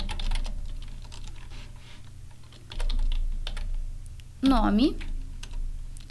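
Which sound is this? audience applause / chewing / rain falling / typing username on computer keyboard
typing username on computer keyboard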